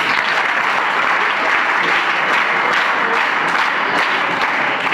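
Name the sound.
applause from audience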